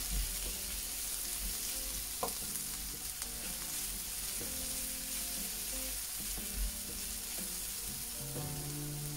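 Green tomatoes and chillies frying in a pan give a steady, crackling sizzle with occasional soft clicks and pops, close by and with no voices.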